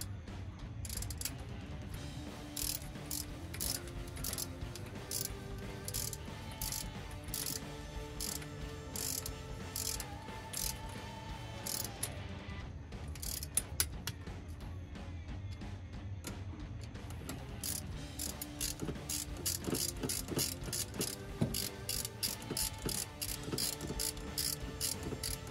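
A hand ratchet fitted with a 1/2 inch socket clicks rapidly and repeatedly on the intake manifold of a 1967 Mustang 289 small-block V8, close and alone, in bursts with brief pauses.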